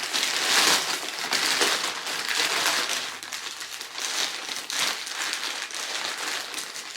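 Crinkly plastic parcel packaging being torn and pulled open, a continuous close rustling and crumpling that rises and falls across the whole stretch, with no talking.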